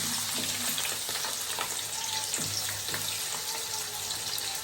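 Onions sizzling and frying in hot oil in a pot, a steady crackling hiss with occasional stirring clinks, no voices.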